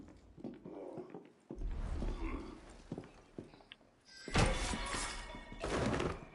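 A corner assassination in Assassin's Creed Unity: several dull thuds and scuffling blows, with a louder burst of impact and struggle noise near the end, all without speech.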